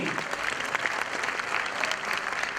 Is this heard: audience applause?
yes